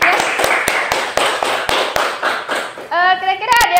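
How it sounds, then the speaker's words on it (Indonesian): Classroom full of pupils clapping hands together for a classmate, a dense patter of claps with sharp regular beats, ending in a burst of children's excited voices and squeals. "terima kasih, tepuk tangan buat Mbak Ditya."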